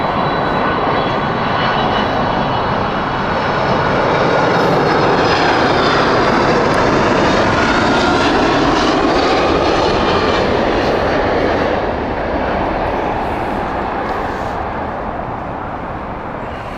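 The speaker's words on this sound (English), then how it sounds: "That here is the Icelandair 767" An Icelandair Boeing 767 airliner from Reykjavik roars past at Heathrow Airport, a loud, continuous jet engine rumble that swells to a peak midway and then slowly fades.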